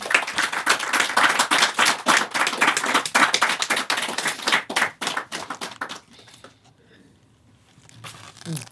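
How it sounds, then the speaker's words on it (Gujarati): An enthusiastic audience at a poetry evening podcast claps loudly and continuously for about six seconds, the claps sharp and close, then fading into a quiet room with faint soft sounds. "ઉતાર જોરદાર તાળીઓ"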